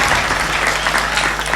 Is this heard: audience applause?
yes